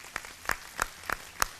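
Scattered audience applause at a talk on Jeevan Vidya Madhyasth Darshan, five sharp separate claps spaced roughly a third of a second apart, close and clear with no voices.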